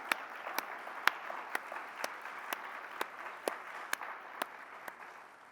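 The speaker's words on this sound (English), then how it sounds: "Please join me in applauding them." Audience applause for newly elected officials at a nursing organization's annual business meeting, heard as faint, sparse, evenly spaced claps at a distance, tapering off toward the end.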